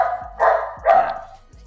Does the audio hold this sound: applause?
no